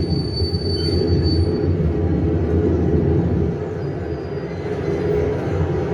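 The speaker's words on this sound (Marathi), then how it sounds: "ये फास्ट ट्रेन है ना?" A Mumbai local slow train rumbles steadily along the rails, with a faint metallic squeal of wheels early on, continuous and fairly close.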